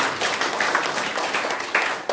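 An audience at a community gathering claps together for a lawyer, a dense, steady patter of many hands filling the short moment with no voices on top.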